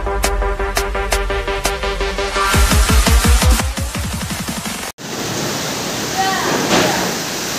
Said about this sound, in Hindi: ये देखो पानी पूरा घर में घुस जा रहा है